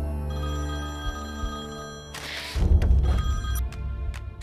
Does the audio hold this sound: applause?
no